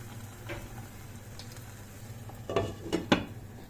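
Clattering kitchen sounds over a faint sizzle, ending in a few sharp metallic clanks as a lid settles onto a frying pan.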